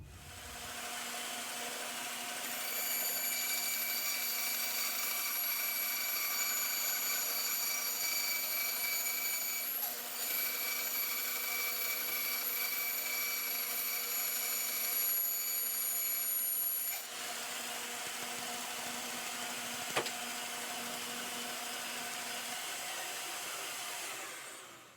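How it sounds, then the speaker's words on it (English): A bandsaw cuts out wooden oval frame segments, a steady whirring hum with high tonal whine running continuously and fairly quietly, its pitch shifting slightly as the blade works through the wood. "So I'm going to cut that out on the bandsaw."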